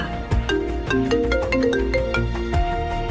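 A melodic ringtone plays a repeating electronic tune, moderately loud and close, with no voices over it.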